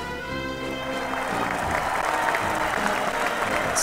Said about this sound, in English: Astounding round of applause for them